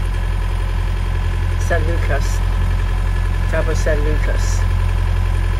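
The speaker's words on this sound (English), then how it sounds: "Just open up the seacock and start up the engine." A sailboat's inboard engine runs steadily at idle, a constant low drone under a voice speaking near Cabo San Lucas.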